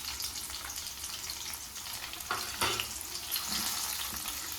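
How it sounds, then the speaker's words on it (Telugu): Ginger garlic paste fries with green chillies in a pan for a Kerala-style fish pickle, a moderate continuous sizzle and crackle with a few brief stirring clatters, no voices. "అవి కొంచెం ఫ్రై అయిన తర్వాత అల్లం వెల్లుల్లి పేస్ట్ అందులో వేసుకున్నాం."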